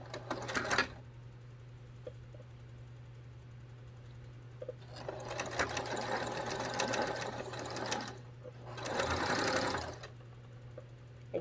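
A sewing machine stitches down a small folded hem on a one-piece fabric gift bag, running in two clear bursts of rapid whirring separated by a pause, with a steady low hum underneath.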